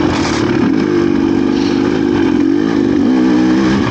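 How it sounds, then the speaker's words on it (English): GPX TSE300 motorcycle engine riding in first gear, a loud, close, steady single-cylinder drone that rises and falls slightly with smooth throttle changes, no talking. "this is me in first gear. I just let it just kind of smooth"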